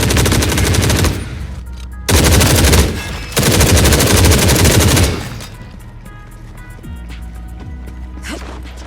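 Loud, dense automatic rifle fire from The Forever Winter rattles in long sustained bursts separated by short gaps, then gives way to quieter scattered shots and mechanical clatter.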